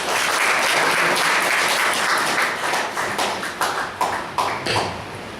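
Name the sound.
audience applause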